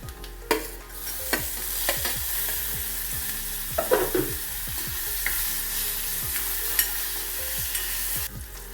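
Red chili, cumin and coriander powders with turmeric frying in a hot pan, a steady sizzle broken by repeated scraping strokes of a spoon stirring them, close and fairly loud, with no voices.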